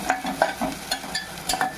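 Onion pieces frying in a pan for a half-kilo mutton curry, with soft sizzling and several stirring scrapes at an even pace, close by and moderately loud, with no talk.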